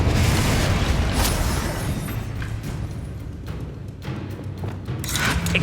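Loud booming blast from the Confringo fire spell in a Harry Potter video game, a heavy explosion that rolls off and fades, with further crackling bursts near the end.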